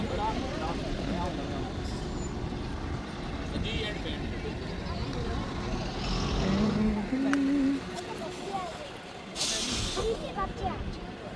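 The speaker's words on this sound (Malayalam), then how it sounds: "അപ്പോൾ ഞങ്ങൾക്കുള്ള വണ്ടി വന്നു." Safari vehicle in the Dubai desert rolling up to collect a group, engine rumble and tyre noise close by with a brief hiss and squeal as it stops, while people talk over it.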